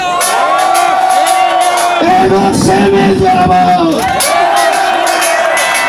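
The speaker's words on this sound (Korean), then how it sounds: "150만 명 함성 들어보겠습니다" A huge crowd of about 1.5 million candlelight protesters roars, shouts and cheers in a loud, sustained wall of sound, with an amplified speaker's voice calling out over it.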